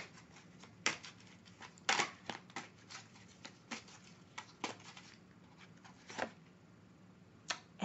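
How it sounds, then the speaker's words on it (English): A deck of oracle cards is shuffled close by, giving quiet, irregular crisp snaps and riffling clicks that come in scattered bursts over a soft background, with no talking. "As I shuffle the deck"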